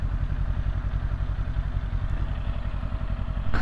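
Kawasaki Ninja 250 motorcycle engine idling very quietly while stopped, a soft, even low-pitched pulsing thrum that stays level and close.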